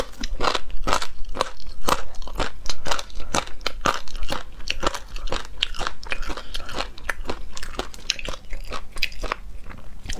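Crunchy chewing of chicken triangle cartilage, close and loud, with a rapid, steady run of sharp crackling bites and no talking.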